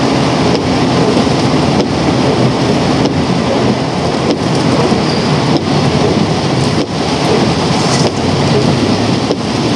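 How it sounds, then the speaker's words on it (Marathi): Heavy monsoon downpour on a village road, a dense, steady roar of rain that stays loud and close for the whole stretch, with no voices. "पण पावसाचा जोर वाढला आहे आता."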